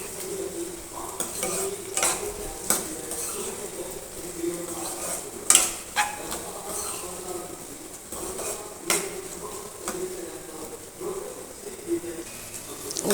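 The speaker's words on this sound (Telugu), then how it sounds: "2 మినిట్స్ సాటేట్ అయిన తర్వాత ఆలు, క్యారెట్ వేసేసుకోవాలి. వేసుకొని బాగా మిక్స్ చేసుకోవాలన్నమాట." Potato and carrot are stirred into a sautéed suji rava upma mixture in a pan, with a steady soft sizzle under repeated scraping and clinking of a spoon against the metal, close and continuous.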